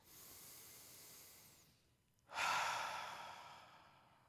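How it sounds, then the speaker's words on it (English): A slow, deep breath drawn in as a calm breathing demonstration, a soft airy hiss followed by a brief pause and then a louder, fuller whooshing exhale that fades gradually, close and alone. "just simply by taking a deep breath, like so"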